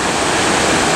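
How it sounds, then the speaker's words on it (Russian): Snowmelt streams in the mountains rush with a dense, loud, continuous broadband roar of flowing water, steady throughout a brief stretch with no voices. "Снега, текут обильно ручьи"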